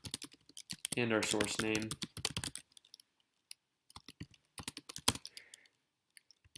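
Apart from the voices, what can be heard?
typing a command on a computer keyboard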